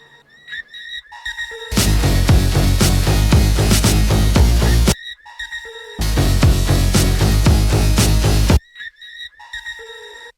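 A scream processed into a synth part in an electronic music track, heard as bright sustained tones and whistle-like lines that alternate with two dense, loud full-band sections, each running for a few seconds.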